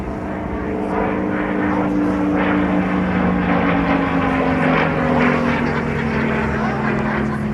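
A jet aircraft, a Jet Provost, makes a low pass at an air show, its loud, steady engine roar sweeping by overhead with a slowly falling pitch.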